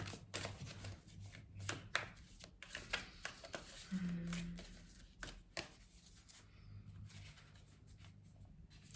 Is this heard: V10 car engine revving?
no